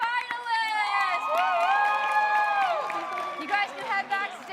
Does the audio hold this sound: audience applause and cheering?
yes